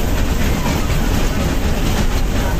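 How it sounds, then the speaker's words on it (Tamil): The Kalka–Shimla toy train, a narrow-gauge mountain railway in India, rumbles steadily along its rails, a loud, continuous close-up roar of wheels and carriage noise with no break. "இதுதான் அந்த டாய் ட்ரெயின்."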